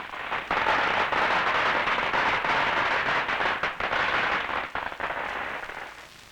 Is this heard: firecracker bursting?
yes